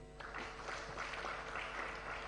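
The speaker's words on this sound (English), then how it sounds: "May I request that you also clap for my colleague," An audience applauds a colleague at the Uganda Water and Environment Week 2021 event, a soft, even wash of many hands clapping, distant and faint, steady for the whole stretch.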